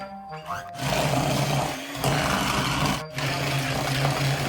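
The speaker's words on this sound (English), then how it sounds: "So, electric whisk." An electric whisk whirs through banana batter in a bowl with a steady, loud buzzing motor drone, briefly cutting out and restarting twice as the mixing continues up close.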